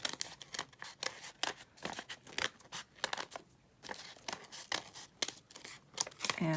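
Scissors snip through paper in a quick series of crisp cuts, close up, with short pauses between strokes, cutting a papel picado banner.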